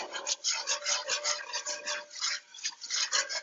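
A spoon stirring a lime juice marinade full of diced peppers, with rhythmic wet scraping and swishing strokes repeating steadily, close and moderately loud, no voices.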